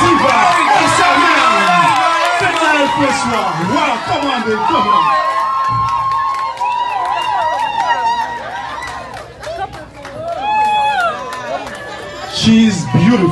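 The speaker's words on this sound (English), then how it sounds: "Je vous demande d'applaudir très fort, mesdames et messieurs." A crowd cheers and shouts at a live event, with a dense, loud wash of excited voices and whoops that holds steady throughout and swells again near the end.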